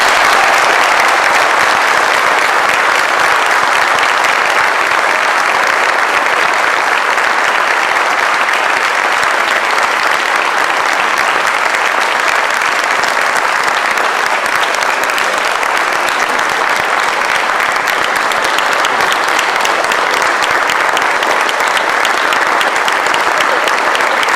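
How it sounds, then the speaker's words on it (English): Long, loud, sustained applause from a large audience honouring high school athletic Hall of Fame inductees, a dense wash of clapping that keeps a steady level throughout with no talk over it. "let's have one long, lasting, loud round of applause for this year's induction into the Hall of Fame."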